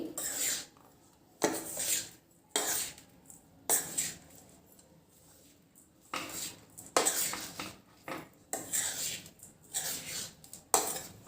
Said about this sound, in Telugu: ఇప్పుడు దీన్ని కూడా బాగా కలుపుకుందామండి.